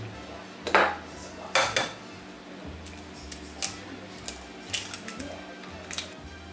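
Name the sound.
mixing vanilla and egg in a bowl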